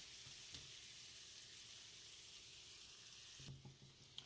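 Onions caramelizing in a pan that was used for cooking liver, giving a faint, steady sizzle with a soft hiss and a few small stir clicks.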